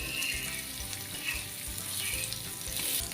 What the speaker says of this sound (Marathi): आपल्याला स्लो गॅस ठेवायचा आहे आणि त्यानंतर आपल्याला हे एक दोन ते तीन मिनटासाठी व्यवस्थित फ्राय करून घ्यायचे